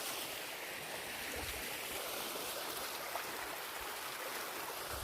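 Irrigation water mixed with desi cow dung slurry flows steadily into a natural wheat field in Jasdan, Rajkot; the rushing, trickling water sound stays constant and soft, with no voices.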